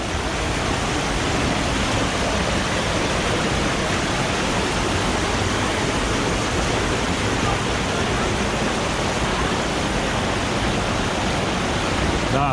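Water rushing steadily through a mountain canyon, a dense, loud, unbroken roar of falling and churning flow with no pauses, close by and filling the whole scene.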